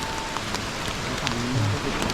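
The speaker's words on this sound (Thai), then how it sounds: "เราสามารถเข้าไปหลบฝนตรงนี้ได้นะครับ" Steady rain falls near a mountain cliff by an old abandoned monks' hut, a close, continuous patter with a few sharper drops and no talking.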